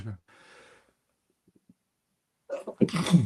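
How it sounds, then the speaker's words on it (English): A single loud sneeze near the end, preceded by a quick breathy intake and a few faint clicks, after a brief stretch of quiet. "I have to sneeze."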